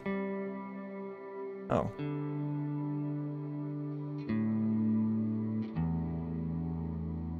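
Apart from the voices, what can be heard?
guitar through Big Sky reverb pedal with chorus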